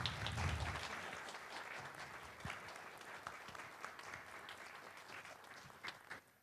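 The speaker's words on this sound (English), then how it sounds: "Let's give everyone a huge round of applause." Audience applause at a faith-themed community special event, a steady wash of many hands clapping at moderate distance, fading slightly toward the end.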